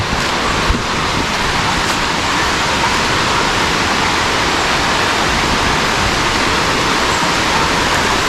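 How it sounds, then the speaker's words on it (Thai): Steady, loud rush of a waterfall fills the scene without pause, a dense broadband roar close by. "น้ำไหลลงมาจากคลองข้างบน"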